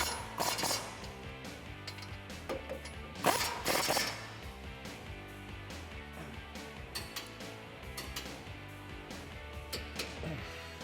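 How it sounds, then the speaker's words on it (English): A ratchet with a 21mm socket snugs caliper bolts on a Ford F150 front suspension, giving rapid clicking pawl ratchets in short bursts with metallic clinks, close up and fairly quiet. "Now I'm going to snug up my caliper bolts with a 21mm socket"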